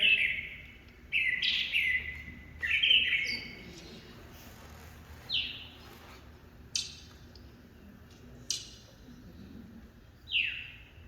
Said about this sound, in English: they're singing. And if you listen, they do couplets.